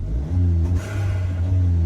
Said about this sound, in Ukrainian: Але тепер машина їде.